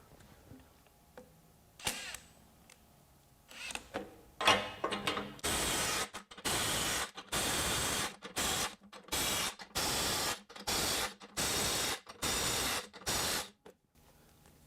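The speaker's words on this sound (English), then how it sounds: "Rather impressive results from the Kobalt 24 volt brushless half-inch compact impact wrench." Kobalt 24V brushless half-inch compact impact wrench in speed mode 3 hammering car lug nuts loose, a run of loud close bursts of rattling impacts separated by short gaps, after some quieter handling clicks.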